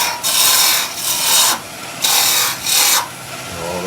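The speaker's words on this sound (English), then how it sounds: "Let's rough it out with a roughing gouge." A roughing gouge cuts wood spinning on a lathe, turning pieces for a nativity scene, in four loud rasping bursts of scraping, each lasting about half a second, separated by short pauses.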